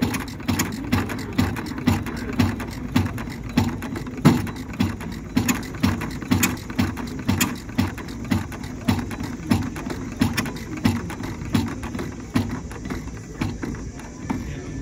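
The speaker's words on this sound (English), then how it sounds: "once the engine started" Henry Ford's 1893 kitchen sink gasoline engine chugs steadily with a regular, loud, rhythmic putter, running continuously close by without any talk.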